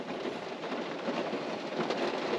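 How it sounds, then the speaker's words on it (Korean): Steady rain falls on and around a car during a car-camping night, a dense, even patter with no breaks, fairly close and moderately loud, with no voices over it. "빗소리 감상."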